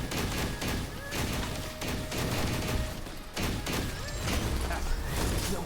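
Rapid bursts of gunfire from the video game Punishing Gray Raven, dense and continuous with repeated sharp impacts layered over game music and effects.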